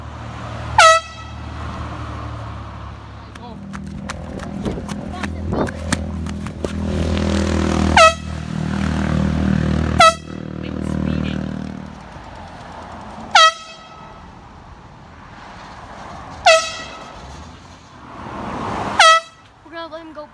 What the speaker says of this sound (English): I'm gonna go blow air horns at people.